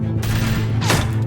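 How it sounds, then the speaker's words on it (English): Gunfire rings out in The Walking Dead: A New Frontier video game, two loud, close booming shots with a rumbling tail, over a steady low hum. "Shit, get down! I hear gunfire."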